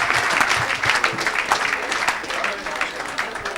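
Church congregation applauding during a lively evangelical service, dense continuous clapping throughout with voices mixed in the crowd noise.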